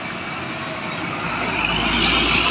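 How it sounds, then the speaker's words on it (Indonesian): A brightly lit bus passes along a roadside at night, its heavy diesel rumble swelling louder as it draws near, with a broad whooshing roar and no talking. "Ada bus tampan di sana, banyak kali lampunya."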